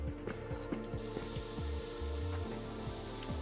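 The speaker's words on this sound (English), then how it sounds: "So I want this spray." Repeated mechanical spray bursts from a forensic spray tool in the Forens1cs crime scene detective video game, with a steady hiss and ratcheting clicks recurring at a regular pace, heard alone.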